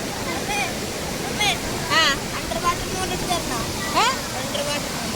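A waterfall in Kerala pours as a constant broadband rush, with people talking and calling out over the roar.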